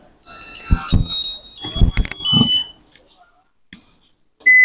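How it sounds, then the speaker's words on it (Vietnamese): A Japanese electric rice cooker gives several bright electronic beeps alongside button clicks and handling thumps, with a final sustained tone at the end, close and clear. "Nấu này, chuông còi kêu tốt các bác nhé."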